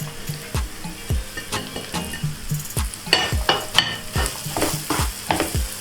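Finely chopped chicken stir-fries in a pan, with rhythmic scraping spatula strokes every half second or so over a steady close sizzle and occasional metal clinks.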